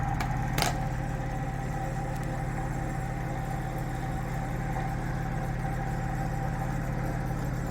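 A homemade magnetic switching motor driven by a solid-state relay runs steadily at about 1075 RPM, giving a continuous low electrical hum with a faint mid-pitched whine and one brief click near the start, with no voice present.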